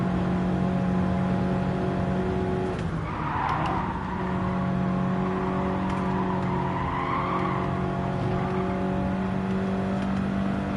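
A race car engine in Gran Turismo 7 holds a loud, steady drone throughout, with a brief surge in pitch partway through as it is revved harder, alongside faint tire noise.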